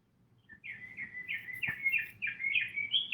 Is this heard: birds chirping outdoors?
yes